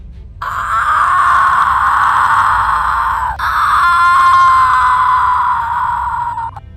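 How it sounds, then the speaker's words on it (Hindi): A witch's scream in a Hindi horror story, one long loud drawn-out wailing shriek that breaks briefly partway through and then resumes, sounding alone without talk. "उसके छिड़कते ही पेड़ से चुड़ैल की चिल्लाने की आवाजें आने लगती है।"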